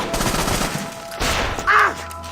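A single sharp sniper rifle shot rings out in Assassin's Creed Rogue, loud and close over faint background ambience and a brief trailing whoosh.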